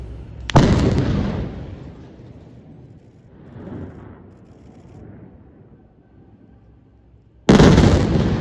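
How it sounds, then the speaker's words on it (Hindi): A bomb blows up a Palestinian apartment building in the West Bank: a heavy, loud blast with a rumbling tail, a quieter stretch, then a second powerful explosion. "वेस्ट बैंक में ही एक फिलिस्तीनी पूरे अपार्टमेंट को, घर को ही बम लगाकर इजराइल ने उड़ा दिया"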